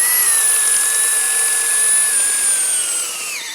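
Flex power tool driving at full turbo speed with no pilot holes, a loud, close, sustained high-pitched motor whine that holds steady and then drops slightly in pitch near the end.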